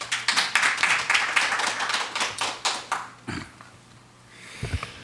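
At a Korean seminar on North Korea sanctions, a small audience gives scattered, distinct claps that are fairly close and rhythmic, then thin out and stop, followed by a few soft thumps and quiet room noise.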